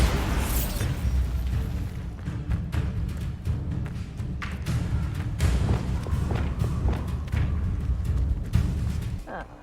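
Spell impacts and booming thuds in Hogwarts Legacy combat, with a Bombarda blast among them, continuous loud rumbling with scattered sharp bursts and thumps throughout.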